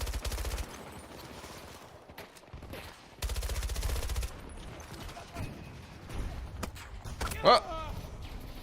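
Heavy XM weapon fire in the video game Battlefield, with bursts of rapid shots separated by quieter stretches, plus a sharp louder hit near the end.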